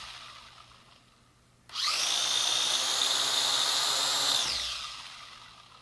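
Propellers of a Syma X5C-1 remote quadcopter spin up with a sudden high electric whir that holds steady for about three seconds, then winds down and fades. The sound is close, with no talk.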